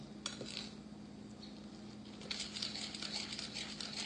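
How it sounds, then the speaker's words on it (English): Quiet scraping and tapping of a utensil against a bowl while tomato soup cake batter with margarine is stirred, growing a little busier toward the end. "we're going to mix this all together"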